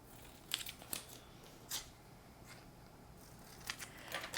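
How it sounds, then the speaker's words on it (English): Scissors snip through paper pieces along a bold line, a few quiet, brief cuts spaced apart with faint rustling between them in a quiet room. "You're going to cut on the dark bold line to separate each of those pieces."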